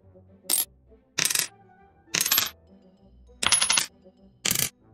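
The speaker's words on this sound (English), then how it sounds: "when you collect a coin, the pitch of the coin sound effect would be raised slightly every time" An indie video game's coin-collect sound effect plays five separate times at uneven intervals, each a short bright chime that rises slightly in pitch with every pickup, clean and close with silence between.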